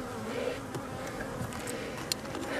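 Honeybees from a winter apiary colony hum in a steady, close buzz, with a few faint clicks and knocks over the drone and no voices.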